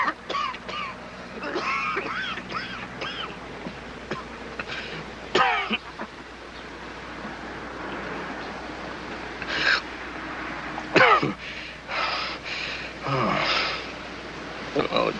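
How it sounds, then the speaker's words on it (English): A man coughs, clears his throat and gasps in short harsh bursts, mixed with spoken dialogue and faint background music from an old film soundtrack. "He's been keeping everybody awake with his coughing and wheezing."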